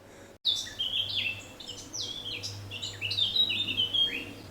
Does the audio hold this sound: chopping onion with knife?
no